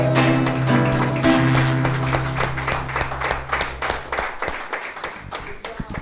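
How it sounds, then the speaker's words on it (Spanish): Congregation clapping at a church service, sharp separate claps over sustained music at first, then the music fades and loose, uneven applause carries on alone and tapers off. "Denle un aplauso al Señor."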